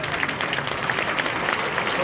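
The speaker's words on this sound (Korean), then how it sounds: "일어나서 박수 한번 하시죠" A large denominational general assembly rises and applauds an elected vice-moderator, a loud, continuous wash of many hands clapping in a big hall.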